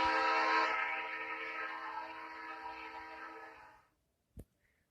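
Train horn resembling an old Conrail locomotive horn, a loud, rich multi-chime blast that holds for about four seconds and slowly fades before cutting off, followed by a brief faint knock.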